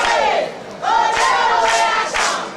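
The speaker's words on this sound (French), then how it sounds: "Applaudissez-le encore une fois" A crowd at a French-speaking political party gathering cheers and shouts in loud, swelling bursts, with rising vocal calls repeated several times over a short span.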